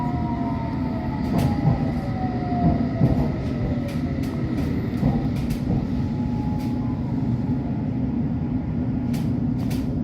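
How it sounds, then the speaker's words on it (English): A London Underground Metropolitan line S8 Stock train rumbles steadily along the track, with a low continuous roar, faint wheel squeals and occasional clicks from the rails, close and loud throughout. "This is a semi-fast Metropolitan line train to Chesham"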